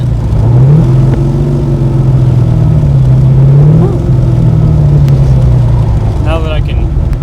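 A 1965 Backdraft Cobra engine rumbles loudly and deeply as the car accelerates on the road, its note rising and falling through gear changes with steady road and wind noise underneath.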